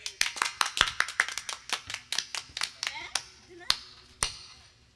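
A small group claps hands in a quick burst of sharp slaps that thins out and stops over a few seconds, with a faint voice briefly underneath.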